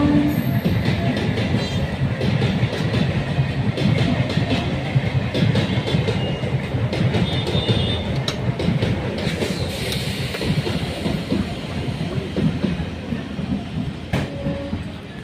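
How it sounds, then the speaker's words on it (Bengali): A train from Rampurhat pulling into Suri station, loud continuous rumble with rhythmic wheel clatter and brief squeals close by, no talking. "8:25-এ ছেড়েছিল রামপুরহাট থেকে ট্রেনটা। এবার শিউড়ি ঢুকছে,"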